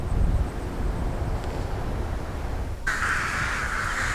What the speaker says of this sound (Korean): 까마귀들이 대숲을 찾는 건 밤을 보낼 안전한 잠자리 때문이다.